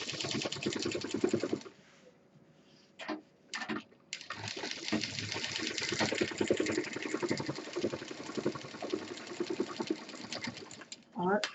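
A sewing machine runs in long bursts, stitching a double line along the straight side of a homemade college bag, with a short pause partway through. A person talks over the steady whir.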